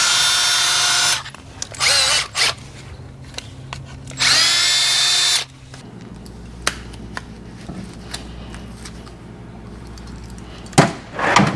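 Power drill trimming a hole in a 2024 Toyota Tacoma TRD Off Road for a rattle fix, loud high whining bursts of a few seconds each, followed by quieter clicks and handling noise.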